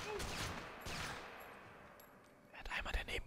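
Gunshots in the stealth game Splinter Cell Conviction come in quick, fairly quiet bursts, with a heavier cluster of shots near the end over faint background voices.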